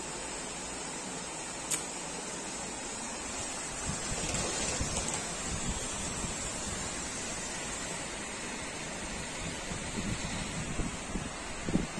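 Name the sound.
heavy rain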